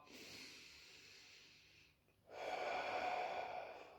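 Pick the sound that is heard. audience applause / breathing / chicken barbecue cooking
breathing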